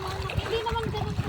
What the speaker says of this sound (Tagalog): Napakasarap pakinggan ng tunog ng tubig, nakaka-refresh.